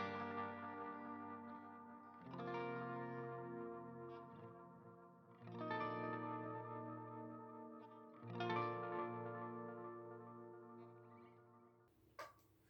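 An electric guitar with a single coil pickup plays sustained chords through an MXR Carbon Copy analogue delay pedal, each strum ringing out with echoing repeats and a warm modulated tail, four phrases in a row at moderate volume.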